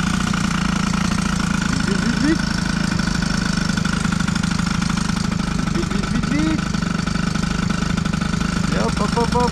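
A 103 moped with a Stage6 65 cylinder kit runs steadily near at hand, a buzzing, slightly knocking drone that holds even throughout while someone talks over it.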